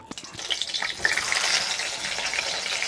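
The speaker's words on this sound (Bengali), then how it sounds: "তো চলো আবার আর একটু ভেজে নিয়ে আসি" Chicken pakora deep-frying a second time in hot oil, a dense crackling sizzle with sharp pops and bubbling, close and steady for the whole stretch.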